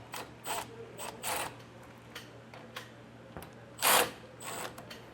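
A power tool with an 11mm socket spins spring bolts loose on an enclosed trailer ramp door, a series of brief close whirring and ratcheting bursts with quiet gaps, one longer louder burst near the end.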